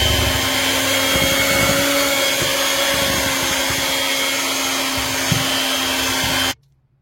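An electric mixer beats yogurt cake batter with a loud, steady high-pitched motor whine and faint churning, running continuously before switching off abruptly near the end.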